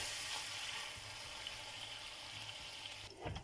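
Butter melting in a hot frying pan gives a steady, close sizzling hiss that runs through the clip, with a brief clatter near the end.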